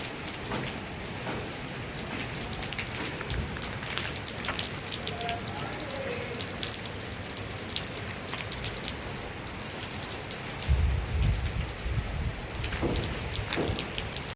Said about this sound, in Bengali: এই জায়গাগুলো মারাত্মক বৃষ্টি হচ্ছে।